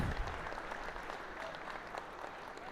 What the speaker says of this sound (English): Round of applause for all of our teams, please.